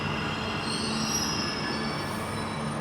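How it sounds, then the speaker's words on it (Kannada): A Bengaluru metro train rolls along with its wheels squealing, a steady high metallic screech over a constant rumble, close and loud without talk. "ನಾವು ಗೆಟ್ ಇನ್ ಮೆಟ್ರೋ"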